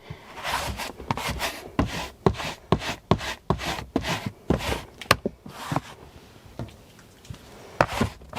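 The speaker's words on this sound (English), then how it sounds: "Let's try the fur remover tool." A fur remover tool swipes repeatedly over fabric to pull off pet hair, a quick run of close, dry rubbing strokes that slows and trails off near the end.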